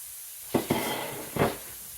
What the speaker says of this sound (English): Do you hear that sizzle? That's exactly what you want to hear.